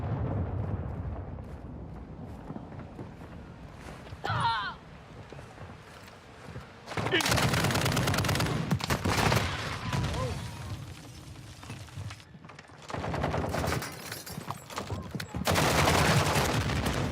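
Gunfire in Call of Duty MWII comes in separate loud bursts of heavy shooting and explosions, broken by quieter stretches of game ambience, with brief voice callouts between them.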